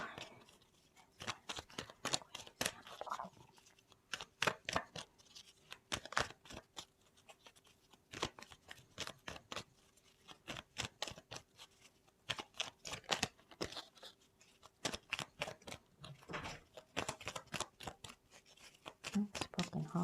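Tarot cards are shuffled and drawn in bursts of crisp snapping and riffling, close to the microphone, with short pauses between the runs of card noise.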